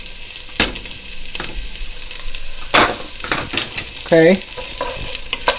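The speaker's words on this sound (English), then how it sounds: "I'm going to go ahead and throw my onions in here." Onions hit hot olive oil in a pan, giving a soft sizzle under occasional stirring scrapes and clatters, close and moderate in level, with one brief spoken word.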